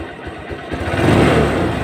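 Honda Supremo motorcycle engine revving close by, a steady mid-pitched idle that swells into a louder, rougher rev before holding high, with no talk.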